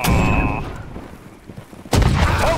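A musket volley in a Holdfast: Nation At War line battle, a single loud, crackling burst of many muskets at once that booms and lingers, following a brief lull after a voice and a whistle-like tone.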